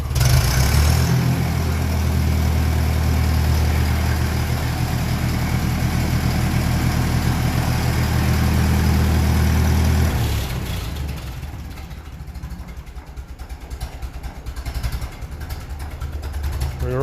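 A 1957 Ferguson 35 tractor running on TVO idles with a steady, even low chug for about ten seconds, then the revs fall and the engine settles into a quieter, slower idle.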